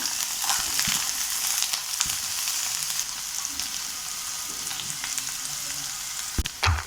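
Onion and garlic sauté in a pan for thoothuvalai chutney, a dense, fairly loud frying hiss with occasional light clicks and a sharper knock near the end.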